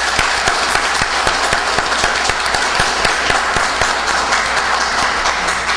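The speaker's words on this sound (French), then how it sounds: "je vous demande de l'applaudir" Sustained applause from political party supporters at a RHDP gathering in New York, many hands clapping evenly and moderately close, with a few sharper individual claps standing out.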